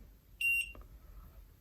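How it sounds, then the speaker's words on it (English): A soldering iron gives a single short electronic beep on reaching temperature, followed by a faint lower tone, clear over a quiet background. "The beep signals that our iron is already"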